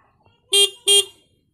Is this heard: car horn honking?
yes